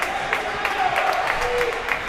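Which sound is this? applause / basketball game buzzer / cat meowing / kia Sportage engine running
applause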